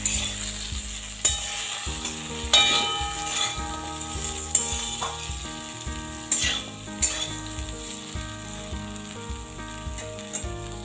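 Drumstick (moringa) and potato curry sizzles in a pan with cumin and chili powder while it is stirred, a steady frying hiss broken by scraping stirs, under background music.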